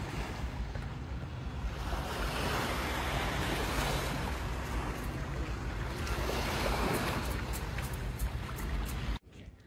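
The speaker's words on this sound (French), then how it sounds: "Tu entends que les bruits des vagues." Sea waves rolling onto the rocky coast at Théoule-sur-Mer, a steady continuous wash of surf with light wind, no voices, ending abruptly.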